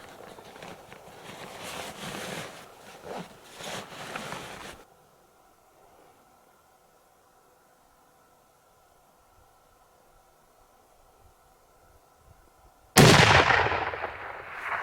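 A single rifle shot is fired at an elk on a backcountry hunt. After rustling movement and then a long, quiet stretch of faint steady hum, one sudden loud blast rings out near the end and echoes away.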